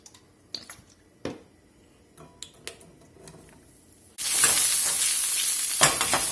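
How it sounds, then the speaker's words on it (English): Sausage sautéing in a pan for fajita pasta: scattered clicks and scrapes of stirring, then a sudden loud, steady, crackling sizzle that fills the rest, close up. "We're gonna let this sausage saute here a few minutes until we get it browned up pretty good."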